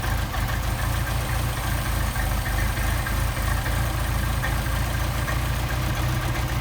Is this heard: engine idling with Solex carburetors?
yes